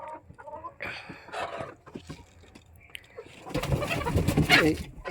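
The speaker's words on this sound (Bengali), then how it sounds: "এই যে তোমরা দেখতে পাচ্ছ দেশি মুরগি আর চাঁদ গায়ে মুরগি আছে" Desi chickens and Chand-gaye chickens on a poultry farm give a loud burst of clucking and squawking toward the end, after a stretch where a person is talking.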